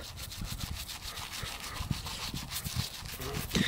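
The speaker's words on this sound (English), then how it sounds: "I'm going to use like just a nylon bristle brush to scrub on there." A nylon bristle brush scrubs white bicycle brake hoods while they are being cleaned with tire cleaner. Rapid, continuous scratchy rubbing strokes sound close and fairly quiet, with small bumps in their rhythm.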